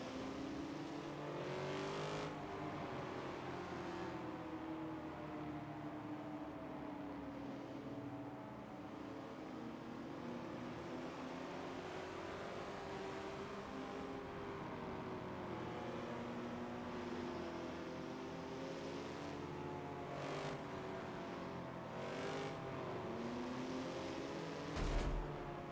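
Race cars in the Forza game roll through a pace lap at Circuit de Spa, a continuous layered engine drone that rises and falls in pitch as several cars run together, with a brief sharper bump near the end.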